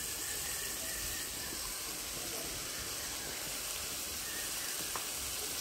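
Chicken mince and pointed gourd stir-frying in a pan, a steady close sizzle and hiss with faint scraping throughout, no voices.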